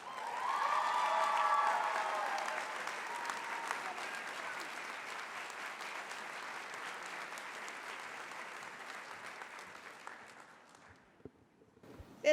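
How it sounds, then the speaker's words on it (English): Sustained applause from a large audience at a college nursing pinning ceremony, steady dense clapping that swells early, holds, then thins out and fades near the end. "I think we should give a big round of applause to Dr."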